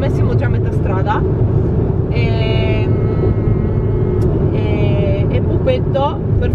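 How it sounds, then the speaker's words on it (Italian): Inside a moving car on a road trip, a steady low engine and road rumble runs throughout, with people talking over it. "Siamo in macchina e non so da quanto stiamo guidando"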